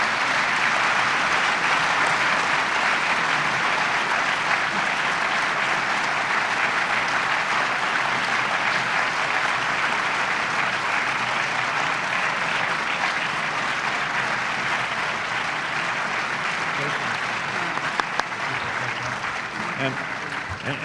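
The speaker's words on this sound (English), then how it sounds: "first of all, a round of applause." A panel-discussion audience applauds for an extended stretch, a dense, steady wash of many hands clapping that carries on without pause and tapers slightly near the end.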